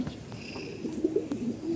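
Several pet pigeons coo in overlapping low, throaty phrases close by.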